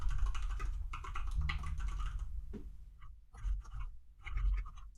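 JavaScript code typed on a computer keyboard, rapid close clicking keystrokes in bursts with a short pause midway before typing resumes.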